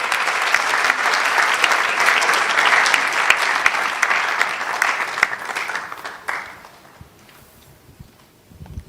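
Audience applause greets a sponsor walking to the podium at a national quiz championship launch: a dense, sustained roar of clapping that tapers off after about six seconds into a quiet room with a few scattered taps.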